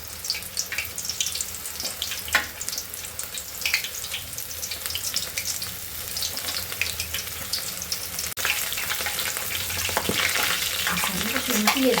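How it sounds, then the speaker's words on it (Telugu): Soya chunks deep-frying in hot oil give a loud, dense, continuous bubbling sizzle that swells as more chunks go in, with a few clattering knocks from a utensil. "డీప్ ఫ్రై చేసుకోవాలి ఇప్పుడు."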